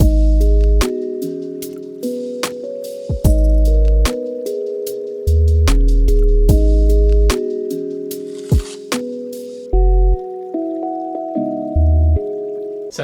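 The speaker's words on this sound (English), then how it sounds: "the main element for me in this beat was using a sine wave purely for the bass" A pure sine-wave bass carries a lo-fi beat built in FL Studio. Deep sustained low notes shift pitch over soft melodic chords and crisp percussive ticks, all closely mixed with no voice.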